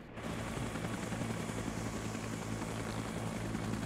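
A helicopter flies in the video game Arma 3 in a Vietnam setting, its rotor and engine making a dense, constant, moderately loud rumble with no voices over it.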